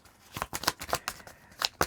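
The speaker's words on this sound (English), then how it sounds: "They're so nice and easy to shuffle." Small oracle cards are shuffled by hand in a quick run of crisp riffling bursts, about a dozen short snaps in uneven rhythm, close and fairly quiet with no talking.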